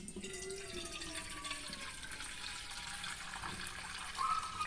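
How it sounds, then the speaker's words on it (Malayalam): Water runs steadily from a kitchen tap as a continuous, fairly close hiss and splash, with no talking. "പൈപ്പിൽ നിന്ന് ഞാൻ ഇച്ചിരി വെള്ളം എടുത്തില്ല കേട്ടോ."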